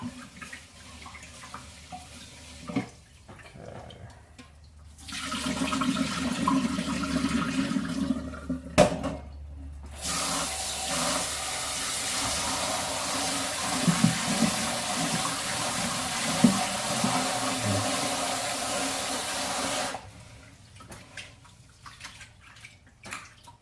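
Tap water runs into a measuring container for cooking, a steady hiss and splash lasting about fifteen seconds after a short trickle, then stopping; fairly quiet and close, with no talking.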